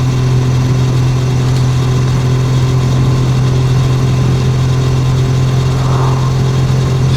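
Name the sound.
British motorcycle engine idling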